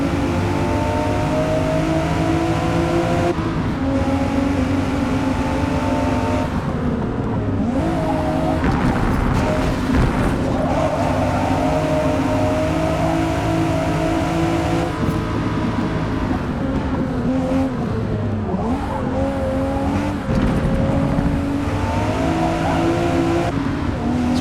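Race cars in Forza Motorsport scream around the track in a dense, loud and unbroken blend of revving engines, gear changes and occasional tyre squeal, with cars passing close by.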